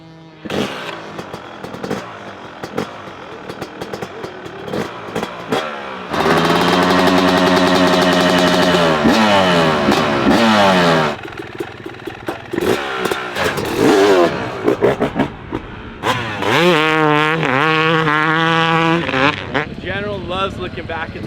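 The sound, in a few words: off-road motorcycle riding and revving on a dirt trail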